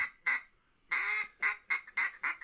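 Ducks quack in a rapid, loud series of calls during a Michigan opening-day duck hunt, the bursts coming in quick rhythmic succession.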